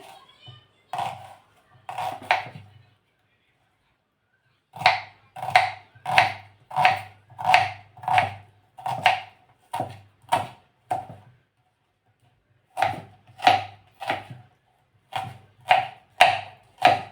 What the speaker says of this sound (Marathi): हा कांदा धुवून नंतर बारीक चिरून घ्यायचा आहे